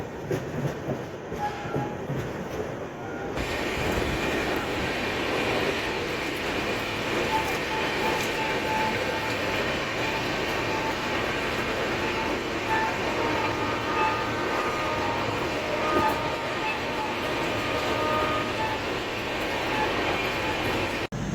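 The 19316 Veer Bhumi Express pulls away from the station and settles into a steady run on the rails, with a continuous loud rumble, rhythmic wheel clatter and faint squeals from the coaches.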